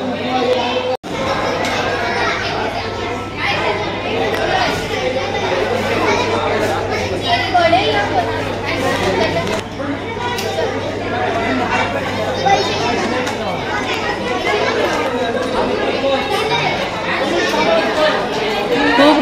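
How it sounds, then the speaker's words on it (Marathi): Dense crowd chatter fills a busy Jai Bhim Panther fair, many voices overlapping continuously with children among them, a steady loud murmur throughout with a brief dip near the start. "खूप गर्दी आहे बघा, भरपूर गर्दी आहे."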